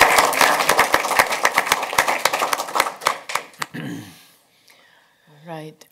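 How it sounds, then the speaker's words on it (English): A board meeting audience gives a brief round of applause, crisp close claps from a modest group that thin out and stop after about four seconds, followed by quiet and a voice starting to speak. "I'd just like to give Rhonda and her team and Mr. Campo a great round of applause"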